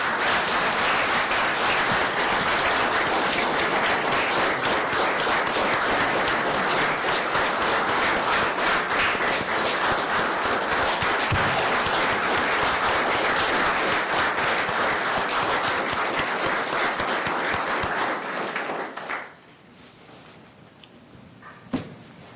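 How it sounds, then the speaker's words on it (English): Sustained applause from a room of people at a county board of supervisors meeting honouring veterans, steady dense clapping that carries on loudly, then cuts off abruptly into quiet with a single knock near the end. "There's going to be a lot of up and down as we applaud these wonderful heroes."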